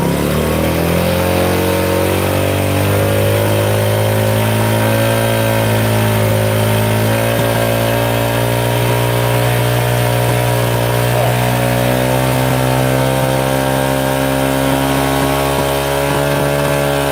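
A motorcycle engine with a full-wave charging setup held at steady high revs, a loud continuous drone with a rising pitch that holds for the whole stretch, close to the microphone and without talk.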